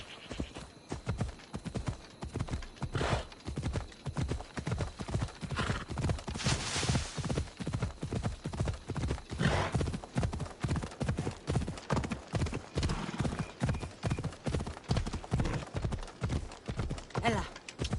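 Horse hooves trot in a steady, rapid clip-clop rhythm close by for the whole stretch, with a faint whinny and little talk.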